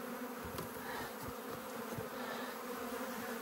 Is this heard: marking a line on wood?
no